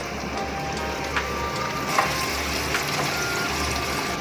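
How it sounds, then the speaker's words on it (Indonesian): Tofu coated in tapioca flour fries in hot oil with a steady, even crackle and hiss, joined by a few brief louder pops, and no one talks over it. "Goreng ini jangan dibalak-balik ya, karena takut hancur, karena kandungan airnya dia tinggi sekali."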